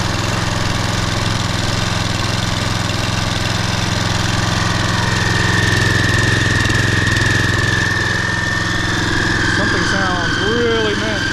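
A Toro Personal Pace walk-behind mower idles loudly and roughly with its blade disengaged. A high steady squeal from a slipping belt rides over the engine, and later a voice speaks over the noise.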